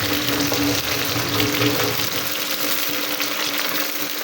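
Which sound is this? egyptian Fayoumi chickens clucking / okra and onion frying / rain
okra and onion frying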